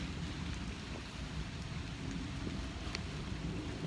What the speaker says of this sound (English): Little rain.